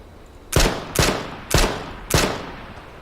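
Four sharp gunshots from H1Z1 ring out at an even pace, each loud crack trailing off in a short echo, with no talking.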